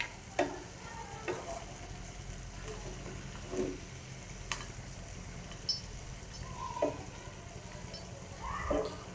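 Boneless chicken curry with curry leaves, chili, chili powder and salt fries in a pan, giving a steady soft sizzle with occasional spoon scrapes and taps from stirring, close by.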